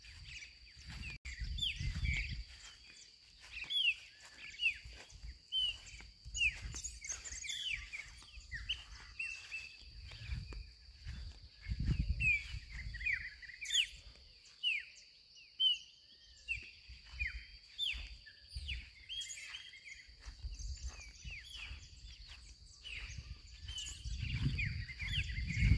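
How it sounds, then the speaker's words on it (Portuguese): Songbirds chirp and sing continuously around a rural ranch, many overlapping calls over a steady high insect-like hum, with low rumbling bursts of wind or handling noise. "Passarinho cantando"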